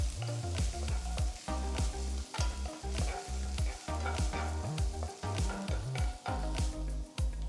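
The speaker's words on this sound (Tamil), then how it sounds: "பொடுசா நறுக்கின 1 துண்டு இஞ்சி சேர்த்து ஃப்ரை பண்ணுங்க." Garlic and ginger sizzle in hot oil while a spoon or spatula stirs in a quick, repeated rhythm, close and fairly loud.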